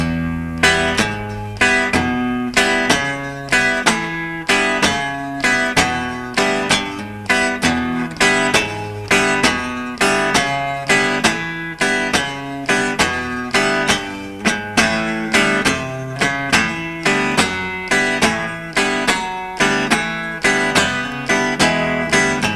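An acoustic guitar strums a blues rhythm in a slow, steady, even tempo, each stroke ringing clearly with no voice over it.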